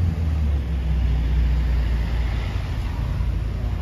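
A GTC sports car engine rumbles steadily on a Monaco street, a continuous low drone holding at an even level throughout with no talk.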